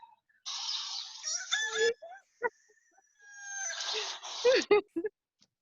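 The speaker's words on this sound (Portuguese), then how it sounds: "O que meu galo tá fazendo aí?" A rooster crows twice during a class session, each call a long, loud, strained cry of several seconds ending in sharp breaks, with short clicks and noises between the crows.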